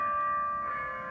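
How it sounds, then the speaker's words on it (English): Church bell tones hang in a sustained, ringing chord that fades slowly, heard at moderate distance with no voices over it. "we'll wait for the bells"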